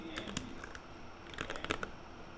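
Quick bursts of typing on a computer keyboard, close and fairly quiet, with irregular clusters of light key clicks separated by short pauses.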